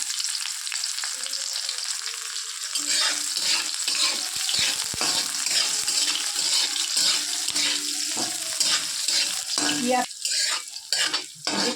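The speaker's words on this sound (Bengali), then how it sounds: "পেঁয়াজটা একটু লাল লাল হয়ে গিয়েছে" Onions fry in oil with cumin and dried red chillies, a steady sizzle that grows louder after a quiet start, with scraping stirring sounds close by and no speech.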